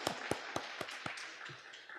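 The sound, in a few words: congregation clapping for the church secretary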